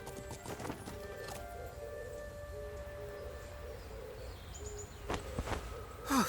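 Horses clip-clop in the fantasy role-playing video game Masquerada: Songs and Shadows, a steady hoof rhythm running under ambient game music and tones, with no talk.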